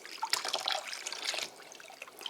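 Water poured a little at a time into a foot basin, splashing over a hand before reaching the feet; a soft, steady trickle and splash that runs unevenly throughout with no talking.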